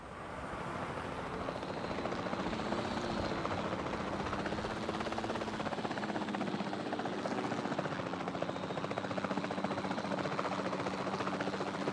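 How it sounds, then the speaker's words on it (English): Helicopter flying in the Jurassic World Evolution 2 video game, a steady loud rotor and engine drone that holds constant throughout with no talk. "we do have to take control of the helicopter here."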